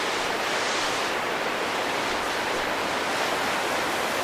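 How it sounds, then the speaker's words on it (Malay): Fast-flowing river water after rain runs beside a campsite in Sahom Valley, Kampar, Perak: a steady, dense, close rushing roar, unbroken and even throughout with no voices. "Cuma air sini dia agak laju sikit lah."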